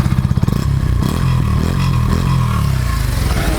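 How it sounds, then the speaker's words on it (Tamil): A Yamaha FZS 150 V3 BS6 motorcycle revs loudly and steadily up close, with a throaty exhaust rumble and some rattling texture throughout. "அடுத்து எக்ஸாஸ்ட் சவுண்ட்"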